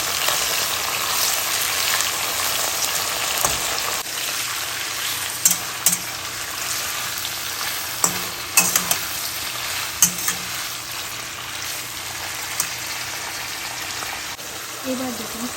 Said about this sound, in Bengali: এবার কচুরলতিগুলো দিয়ে দেবো